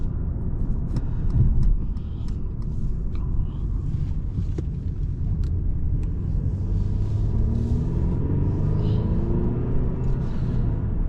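A 2023 Mercedes-Benz E 350 4MATIC sedan engine hums with a low, steady rumble while driving, with road noise underneath and no talking.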